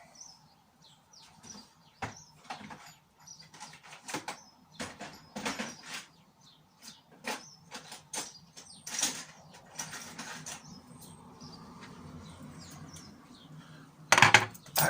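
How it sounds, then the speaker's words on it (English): Plastic Nerf Stryfe MP7 body kit being trimmed with a hacksaw and needle files, giving repeated close rasping scrapes and sawing strokes in uneven bursts, with a louder clatter at the end and no talking. "Hacksaw and needle files."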